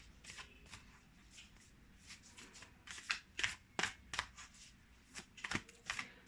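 A deck of oracle cards is shuffled by hand in repeated riffling bursts, crisp papery flutters and snaps close up against a quiet room.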